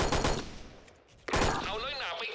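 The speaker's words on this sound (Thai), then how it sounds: "เสียงปืนนี่ก็ไม่เหมือนใครทุกคนเท่ดิทุกคนเสียงปืนอ่ะเท่จัดเลย" UMP-45 submachine gun firing in the online shooter Special Force, rapid bursts of gunfire up close, a pause, then sustained loud fire with ringing game effects.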